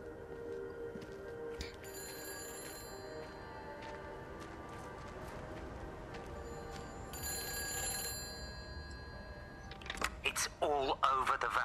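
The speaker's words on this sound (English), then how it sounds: "I hear a phone." A telephone rings in the game Everybody's Gone To The Rapture, a repeated electronic ringing tone over a quiet ambient bed, with a louder clattering burst near the end.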